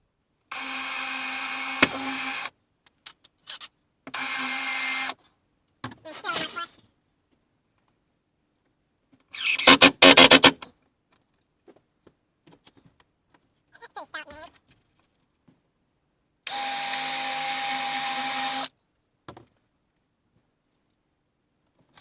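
A drill countersinks screw holes in ceiling supports inside a Ford E350 van conversion. It gives several short high whining bursts separated by silence, close and loud, with faint clatter between them.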